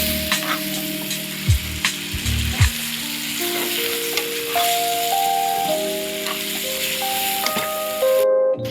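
Homemade spice masala stirred in a frying pan for a sukat and ambadi chutney, a steady sizzle in hot oil with spoon scrapes and a few knocks on the pan.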